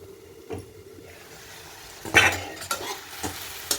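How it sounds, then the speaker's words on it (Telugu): Tomato pieces stirred into mint chutney frying in a pan, a low sizzle with a few scraping spoon strokes and clatters against the pan after a quiet start. "కడిగి కట్ చేసి పెట్టుకున్నటువంటి టమాటా ముక్కల్ని కూడా వేసి కలపాలి."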